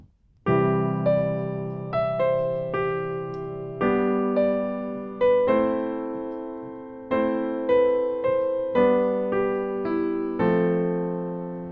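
Solo piano plays the intro of a song, slow sustained chords rolling in one after another, close and clear with no voice.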